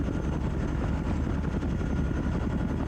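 A helicopter in the Squad Battles Tour of Duty war game gives a continuous dense rotor-and-engine roar, loud and unbroken, with no voices.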